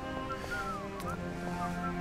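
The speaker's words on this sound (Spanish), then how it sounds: "El señor que está silbando es uno que está barriendo por aquí." A man whistles a gliding melody while sweeping in the Syberia video game, the tune clear and mid-distance over a steady tonal background hum.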